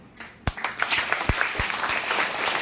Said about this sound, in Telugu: ఇప్పుడు నిజంగా గట్టిగా చప్పట్లు కొట్టండి.